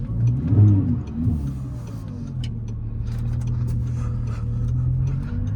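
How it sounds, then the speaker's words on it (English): An Audi R8 V10 with a gated manual gearbox, running on winter tires, is heard from inside the cabin. The engine gives a low steady drone that swells briefly at the start and then holds even, with faint ticks over it. "first drive in the R8 on the OEM wheels, of course with winter tires"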